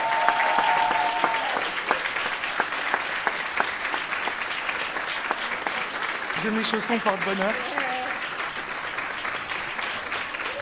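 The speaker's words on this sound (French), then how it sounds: "Donc vous me faites un gros applaudissement." Continuous audience applause at a live stage show, moderately loud and steady, with a voice speaking briefly over it.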